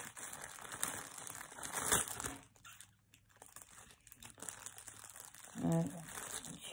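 A paper card handled during a scrapbooking and sewing craft session, producing close crinkling and rustling of paper with brief crackles, quiet and intermittent, with a louder crumple near the end.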